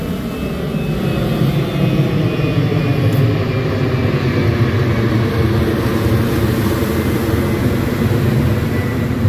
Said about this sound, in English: Planes, which actually are kind of a welcome sound, although they ruin my videos.